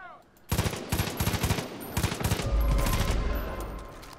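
Rapid automatic gunfire in the video game Far Cry 5, loud bursts of shots in quick succession followed by a heavy rumbling blast that lingers.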